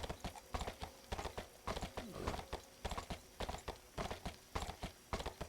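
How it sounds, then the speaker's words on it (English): Horse hooves clip-clopping in a steady rhythmic gallop while riding in the medieval combat game Mordhau, continuous and evenly paced beats with no one talking. "So it's pretty safe to ride the horse up here."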